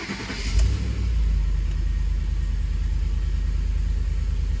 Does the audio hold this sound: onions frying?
no